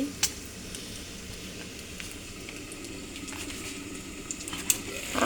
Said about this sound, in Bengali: এখানে আমি ডিমটা ভেজে নিচ্ছি